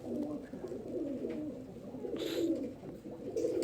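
Teddy pigeons, show fancy birds including a young pair's babies, cooing steadily in a loft, low soft throaty coos repeating close by with no talk.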